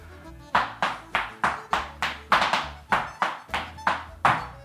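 Irish dance treble steps struck on a floor during a treble reel lesson: about eleven sharp, evenly spaced taps with a few quick doubled beats, close and clear with no talking.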